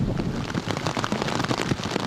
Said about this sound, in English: In Kowloon Tong, rain was heavy.